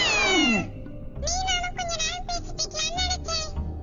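A kitten meows repeatedly in a video game, a high, bright series of short rising and falling cries, close and clear after one opening yowl.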